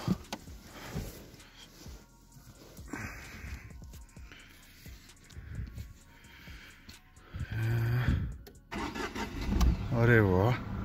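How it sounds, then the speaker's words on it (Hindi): A Tata car's engine cranks and fires up on the first try of the starter, a short engine start rising toward the end amid outdoor talk on a mountain road trip in Spiti. "एक सेल्फ में स्टार्ट होती है कि नहीं।"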